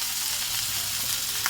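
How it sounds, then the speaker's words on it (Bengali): Green chilies, onion, garlic and bay leaves fry in a pan for a tomato mash, giving a steady, soft close sizzle with no voices. "এগুলো ভালোভাবে শুকনো করে ভেজে নেব। ভেজে দিচ্ছি।"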